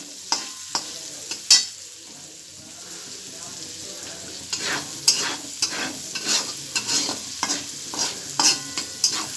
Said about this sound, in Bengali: ওই তেলে দিয়ে দিয়েছি পেঁয়াজ কুচানোটা।